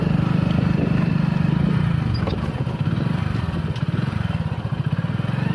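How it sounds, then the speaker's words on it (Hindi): Motorcycle riding along a rural road by the Indira Gandhi Canal after rain, with a steady close engine drone and a low chugging rhythm that dips briefly midway before settling again. "अभी हम लोग अपने बाइक लेकर के और जो व्यू दिखाएंगे हम बाइक से"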